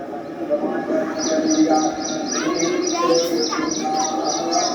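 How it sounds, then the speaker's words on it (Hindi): Repeated rapid bird chirps ring out over a background of people talking at a Shiva temple, with softer cooing and other calls mixed in. "एक तो मेन तो ये चिड़िया की आवाज आ रही है"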